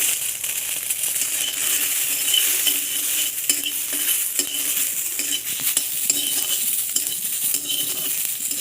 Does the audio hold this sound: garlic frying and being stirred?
yes